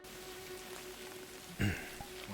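Heavy rain falls steadily as a soft, continuous hiss in a stormy, foggy VRChat roleplay scene, with a faint tonal hum underneath and a brief louder thump midway.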